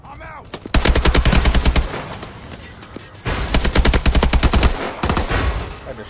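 Rapid automatic gunfire rattles in loud bursts in the futuristic shooter Call of Duty Advanced Warfare, three sustained volleys separated by short pauses, close and dominant over the game's background sound.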